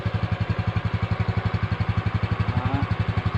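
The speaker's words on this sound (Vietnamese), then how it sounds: "bây giờ đang nổ máy đây các bạn" A Honda RS motorcycle engine idles close by in a steady, rapid putter, with regular even pulses at a constant low rpm and no speech.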